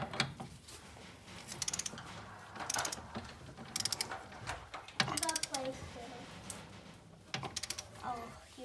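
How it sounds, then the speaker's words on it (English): Torque wrench tightening brake bracket bolts on a 1992 Camaro during an LS front brake swap, with irregular metallic ratcheting clicks and clunks in short bursts, fairly close and quiet. "We're gonna torque them to 85 foot-pounds of torque."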